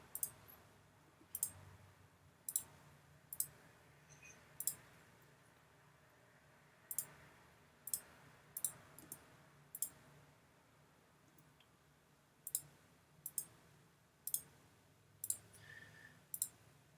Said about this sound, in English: I'll sample that same texture and just click all the way across